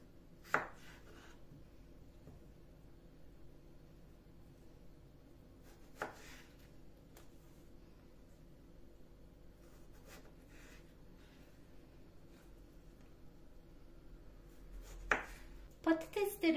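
Potatoes being cut into wedges with a knife, quiet sparse taps and chops on a board separated by long pauses, with a louder cluster of cuts near the end.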